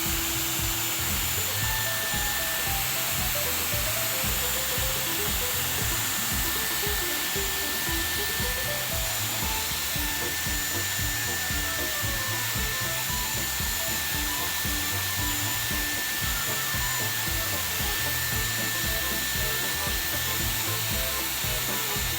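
A Dyson Airwrap hair styler runs continuously on wet hair, a loud steady whirring blow with a high whine, unbroken from start to finish with no talk.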